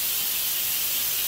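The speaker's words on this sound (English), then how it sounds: "We are releasing the pressure from the Instapot." Steam hisses steadily and loudly as the pressure is released from an Instant Pot cooking vegan smoky butternut squash and apple soup, a close, continuous rush with no talking.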